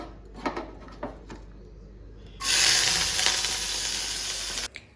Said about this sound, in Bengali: এই পাশে হচ্ছে ডিম আর তেলটা একসঙ্গে ভেজে নিচ্ছি